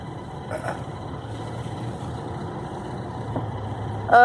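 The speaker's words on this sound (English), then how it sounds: "Why is that truck going?" A truck on a nearby road in Cades Cove gives a steady low engine rumble that holds at an even level and swells slightly near the end.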